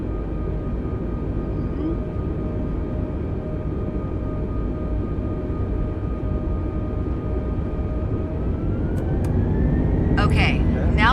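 Jet engines roar at takeoff thrust in the Microsoft Flight Simulator game, a loud, steady broadband drone that swells slightly near the end, with a brief cockpit chime or click over it.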